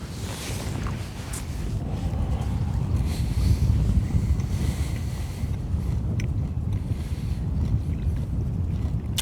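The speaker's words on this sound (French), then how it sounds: "Il y a du vent, le vent s'est vraiment levé là" Wind buffets the microphone in a steady, low roar, with faint water and boat sounds underneath, at a lake while feeder fishing.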